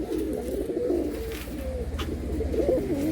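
Home-bred tournament pigeons in Amta, Howrah, coo in low repeated rolling phrases close by, over a steady background hum.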